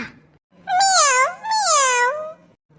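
A cartoon cat gives two long, drawn-out meows in close succession, loud and close, with a short breath of noise before the first one.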